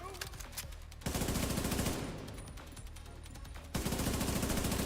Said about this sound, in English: Oh, he's gonna start shooting.